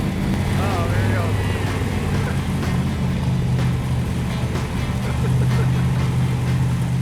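A Plymouth Cuda with a 440 six-pack and 4-speed idles loudly and steadily close by, a deep continuous rumble with slight shifts in pitch, while people talk over it.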